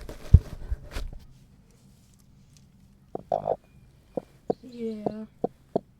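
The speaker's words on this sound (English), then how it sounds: "We'll get you some chicken noises." A friendly broody hen makes short, low clucks and one longer, throaty, rising call, spaced irregularly in a quiet room after a few soft knocks and handling noises.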